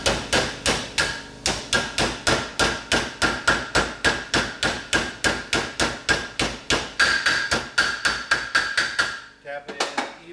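A brake seal is tapped into place on the front brakes of a 4WD Toyota: a steady series of sharp, evenly spaced hammer blows, close and loud, continuing for about ten seconds before a brief scuffle at the end.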